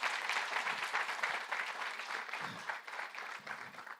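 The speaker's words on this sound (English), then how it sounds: "a round of applause to him, please" An audience at a wealth creation and life skills training session gives a round of applause, with continuous, dense clapping that is fairly distant and even throughout.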